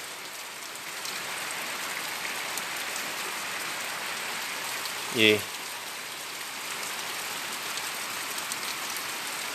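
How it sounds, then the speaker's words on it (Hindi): June's first rain falls steadily outside, heard from indoors, in an even, unbroken hiss, with a single short knock partway through and a brief word spoken. "बरसात हो रही है, जून की पहली बरसात"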